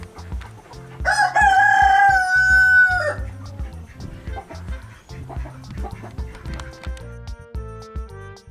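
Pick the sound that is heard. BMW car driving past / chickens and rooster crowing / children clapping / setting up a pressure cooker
chickens and rooster crowing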